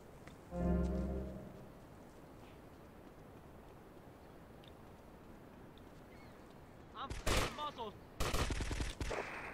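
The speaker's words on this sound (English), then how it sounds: "It looks like he's shooting towards the sky." Gunfire in the video game GTA Vice City: a loud burst of shots near the start, then a lull of ambient noise before two more heavy volleys of rapid fire close out the stretch.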